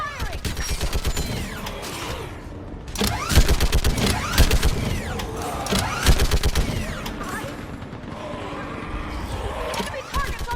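Rapid bursts of automatic gunfire and weapon blasts in a Mass Effect 3 Legendary Edition battle during the fall of Thessia, loud and near, firing in dense volleys with short lulls while voices shout over the combat.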